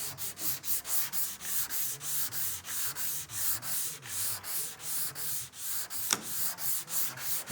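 Rhythmic back-and-forth scrubbing of a sanding block over primer guide coat on a 1959 Chevy El Camino, steady even strokes close by with no talking.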